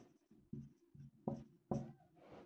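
Pen or chalk writing out a chemical name on a board gives several scratchy, rasping strokes with short gaps between them, close and fairly quiet, with no talking.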